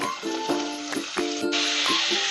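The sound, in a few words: sautéing garlic and spring onions in hot oil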